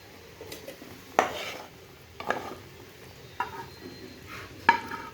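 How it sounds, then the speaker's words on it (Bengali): Cooked leafy greens scraped from a pan onto a plate with a utensil, four or five distinct clinks and scrapes spaced about a second apart over a quiet kitchen background. "প্লেটে ঢেলে নিব।"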